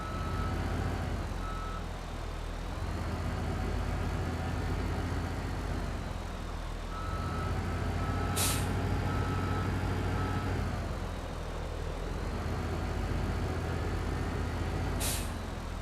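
A tractor engine reversing in Farming Simulator 15, a steady loud mechanical drone that dips and swells with throttle, joined by two brief high hissing bursts.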